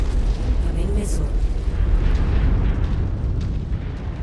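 A missile explodes in a mech combat video game, a loud, dense rumbling blast that fills the clip and rolls on steadily under game noise for several seconds.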